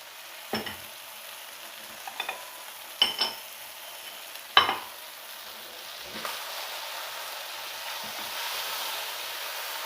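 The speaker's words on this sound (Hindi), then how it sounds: "इस स्टेज पे अब हम इसमें टोमेटो प्यूरी भी ऐड कर देंगे।" Tomato puree sizzling in a pan with chicken, a steady soft fry under several sharp scrapes and clacks of a spoon stirring at irregular intervals, growing a little louder toward the end.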